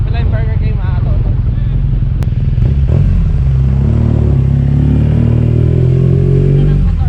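A BMW R NineT motorcycle rumbles loudly and close, its engine and exhaust giving a deep, continuous drone that rises slightly as it pulls along, with a brief clatter early on.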